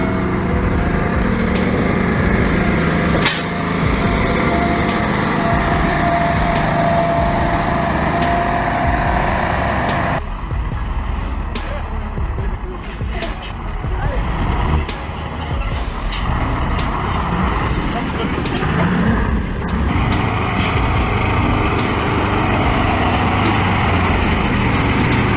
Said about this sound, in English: The angry roar of the engine seemed to tear through the damp morning mist.